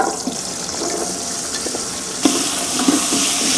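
Hot oil sizzles and crackles in a pan, with a louder burst of frying partway through as green chillies and onions hit the surface.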